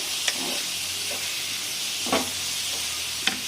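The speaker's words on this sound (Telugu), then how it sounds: "ఆనియన్ పచ్చిమిర్చి వేసి ఫ్రై చేస్తాను" Grated onion and green chillies frying in oil for an egg pulusu, a constant hissing sizzle with a few soft scraping stirs of a spoon at intervals, close and unaccompanied by talk.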